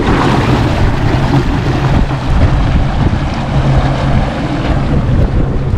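A 2022 Sea-Doo Wake personal watercraft cruises on a lake, with loud continuous engine drone, water rush and heavy wind buffeting the microphone throughout.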